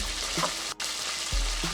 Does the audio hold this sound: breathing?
no